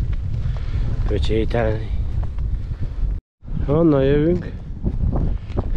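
Strong headwind buffets a microphone on a rainy lowland hike, a loud continuous low rumble that cuts out briefly midway, while someone talks over it.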